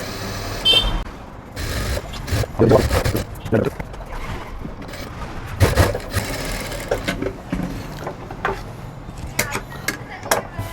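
A sewing machine runs in short, uneven bursts while stitching thread piping onto blouse fabric, close and fairly loud, with someone talking over much of the rattling.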